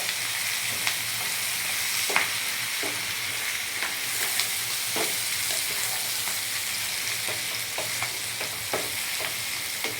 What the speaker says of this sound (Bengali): এরপর আমি মাশরুম ফ্রাইগুলো দিয়ে দিলাম